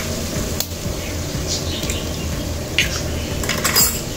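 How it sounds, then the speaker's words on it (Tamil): Egg stirred into rice in a pan, a close, continuous scraping and clinking of a utensil against the pan with a few sharper scrapes, no voices. "நல்லா இந்த மாதிரி கிளறி விட்டுருங்க எல்லாத்தையும் ஒன்றா."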